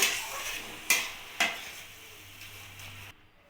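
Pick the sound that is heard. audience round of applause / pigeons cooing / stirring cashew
stirring cashew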